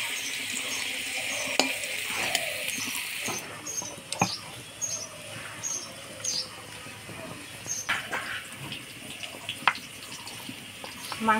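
Potato pieces for a thin chicken curry fry steadily in oil, a soft continuous sizzle with occasional small pops and clinks, close and moderately quiet with no talk.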